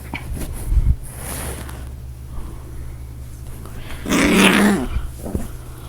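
A dog growls low and rumbling during rough play, with a couple of louder snarling bursts close by, scuffling sounds and a person's brief cries mixed in.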